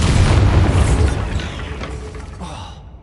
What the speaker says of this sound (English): Bombarda.